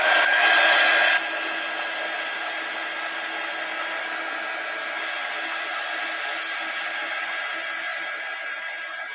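Close, steady hair dryer blowing to dry a mixed media collage, a loud airy whoosh with a whining motor tone that drops slightly in intensity after the first second and continues evenly to the end.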